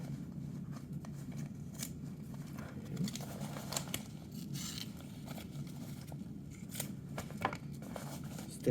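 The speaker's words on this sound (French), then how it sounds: "On va enlever l'emballage." Packaging torn off and unwrapped from a newly bought item, with crinkly plastic rustles, scrapes and short ripping bursts over a steady low background hum, near and fairly quiet, no talking.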